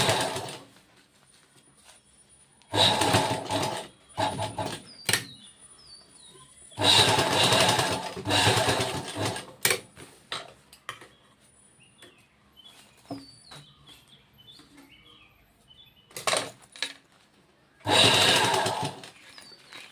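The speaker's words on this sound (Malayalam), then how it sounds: "നമ്മൾ ഇതുപോലെ ചേർത്ത് തയ്ക്കും." Fabric pieces are joined on a sewing machine in repeated bursts of rapid mechanical stitching, each lasting a second or two, separated by quiet pauses with faint background sounds.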